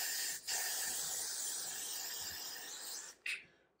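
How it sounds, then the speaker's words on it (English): Hair spray aerosol sprayed onto freshly braided cornrows: two long hissing bursts, the first running about three seconds after a brief pause, then a short final puff, close and fairly soft. "Let me spray this side because I sprayed that side."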